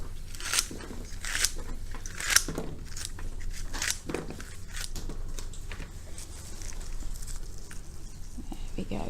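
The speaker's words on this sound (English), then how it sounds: "I need to cut those a bit shorter for this one." Scissors snip through hyacinth flower stems in a handful of short crisp cuts, close and fairly quiet, followed by soft rustling while arranging them in a cube vase.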